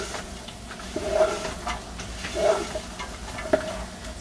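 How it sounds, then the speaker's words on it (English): Cabbage sizzles in hot butter in a pan while being stirred, a soft steady frying hiss with a few brief stirring scrapes, close and fairly quiet. "pop that in there, stir it all up. That hot butter on top of the cabbage will make sure that it wilts for you nice and good."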